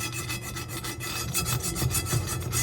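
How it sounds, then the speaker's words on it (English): A scraper rubbing across the inside of a cast iron skillet, a close, repeated rasping scrape in short back-and-forth strokes throughout, with no voices. "these things come in real handy for scraping stuff out of your cast iron skillet"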